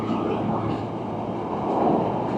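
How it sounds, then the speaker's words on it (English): A heavy road train truck rolls past on a Western Queensland road, a loud low rumbling roar that swells briefly as it goes by. "We're going to try and get this road train."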